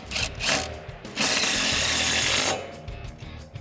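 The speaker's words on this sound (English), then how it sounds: "now we're gonna reinstall our brake bracket to the new strut" A hand ratchet tightens the brake bracket of a 2005-2014 Mustang GT onto a new coilover strut, giving a few quick clicks followed by a longer steady run of rapid ratcheting up close.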